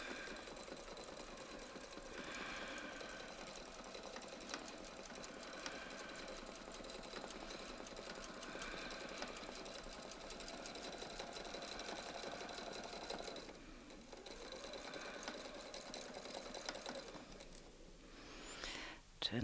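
A domestic sewing machine quilting a circular wreath with a ruler foot and template: a steady, close motor whir with rapid needle chatter running continuously, briefly pausing near the end, with no talking.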